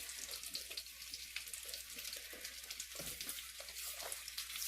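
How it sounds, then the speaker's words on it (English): Mushrooms fry in a pan on medium-high heat, giving a loud, continuous close-up sizzle with busy popping and crackling throughout, and a few faint scrapes of stirring, no voices. "You want to cook the mushrooms all the way through"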